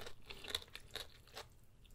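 Close, quiet crunchy chewing of spicy black bean noodles mixed with cheddar cheese, a few soft rhythmic bites and mouth sounds over about two seconds, no talking.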